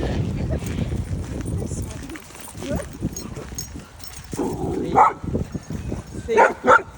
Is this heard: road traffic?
no